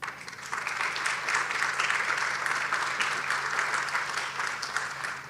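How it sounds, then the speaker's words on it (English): A conference audience at an AI symposium claps for guest speaker Chris Sembroski, a full steady round of applause that swells slightly and holds without any voices over it. "I'd like to ask you to give a round of applause to Chris Sembroski"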